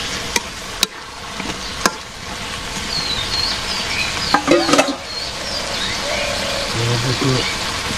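Fish going into hot oil in a pan, a steady frying sizzle with occasional sharp clicks and stirring scrapes, close by, with a few brief voice sounds.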